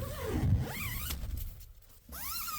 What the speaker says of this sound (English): The zippers still feel smooth.